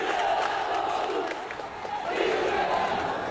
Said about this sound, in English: Crowd is growing here.